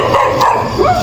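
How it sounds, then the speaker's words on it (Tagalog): Dogs barking on a dark street at night in Santa Cruz, a short loud burst of close barking and yipping over a steady background hum. "Oigan los chuchos."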